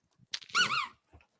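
A dog whines and squeaks briefly, wanting a toy that was taken away, a short high-pitched yelp rising and falling, close by, with no talk over it.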